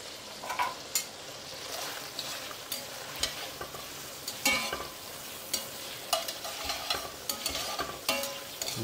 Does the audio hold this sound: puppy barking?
no